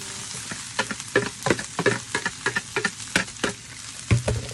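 Leftover rice frying with browned onion in a pan, with a soft steady sizzle and irregular clacking scrapes and stirring strokes of a utensil, heard close and alone.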